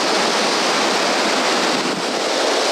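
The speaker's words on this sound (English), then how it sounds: "Making my way down to the waterfall" Pisew Falls in Manitoba roars as a steady, loud broadband rush of falling water, continuous and unbroken with no voices over it.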